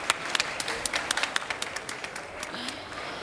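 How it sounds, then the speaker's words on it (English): A small audience claps for World Chocolate Master 2013 Davide Comaschi at a livestreamed chocolate event; distinct, fairly close handclaps come in an irregular patter that thins out and fades over a few seconds. "You can give him a big round of applause"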